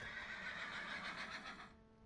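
A horse in the video game Minecraft lets out a single drawn-out whinny that fades at the end, quiet and heard alone without any talking.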